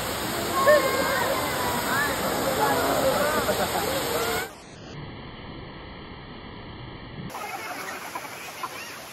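Kanching Waterfalls in Malaysia roar with strong rushing water, a loud broadband wash that drops abruptly midway and returns, steady and close.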